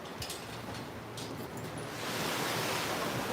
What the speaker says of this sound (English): It's every bit of 40, 50 mile an hour wind out here.